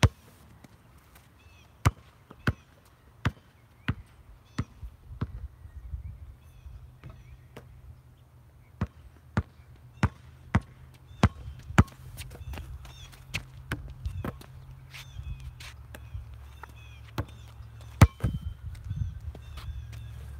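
A basketball bangs against the hoop and goal again and again, sharp, loud impacts coming at irregular intervals over a low background rumble on an outdoor court.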